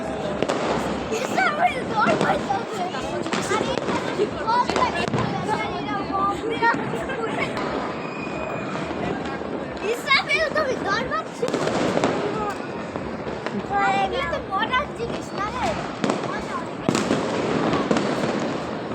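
Fireworks and firecrackers go off from rooftops all around on New Year's Eve. The pops and crackles are dense and keep coming, some near and some farther off, while people chatter close by throughout.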